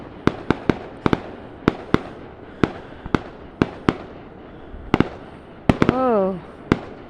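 Fireworks bursting on a Saturday night in Australia near a hotel: a run of sharp, loud bangs spaced irregularly, followed by a brief whistling, warbling rocket trail near the end.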